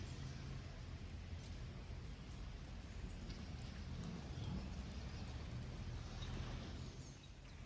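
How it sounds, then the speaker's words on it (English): Steady rain falls during the rainy season in Ninh Binh, northern Vietnam, a continuous close hiss of drops on surfaces with faint distant rumbles, no voices. "it was raining pretty much every day"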